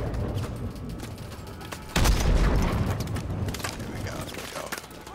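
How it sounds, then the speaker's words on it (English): A launcher fired at a Titan in Call of Duty: Advanced Warfare, a heavy boom breaking through a dense, continuous din of battle, with gunfire and mechanical noise carrying on after it. "Hit the Titan with the launcher!"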